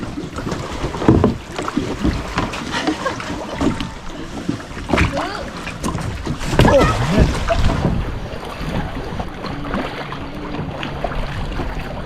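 Kayak paddling on a lagoon at Coron in the Philippines, with irregular paddle splashes and water sloshing under wind noise on the microphone, and voices talking throughout.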